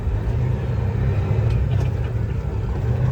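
A nurse's Tesla pulls away nearby, heard as a steady low road rumble and tire noise with a smooth, continuous hum across the short stretch.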